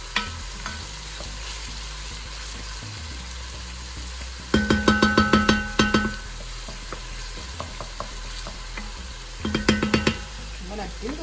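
Onions sweat in a pan with a low, steady sizzle, broken by two bursts of rhythmic metallic scraping and knocking as a utensil stirs against the pan; a voice is faintly present.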